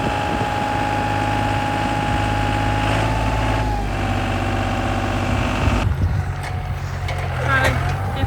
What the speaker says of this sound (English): Warming the tractor up a bit.